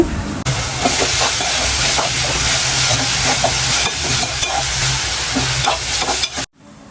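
Dried shrimp and saboran leaves frying for a taro-stolon (kochu loti) curry, a loud steady sizzle in a hot pan with scraping stirs throughout, cutting off abruptly near the end.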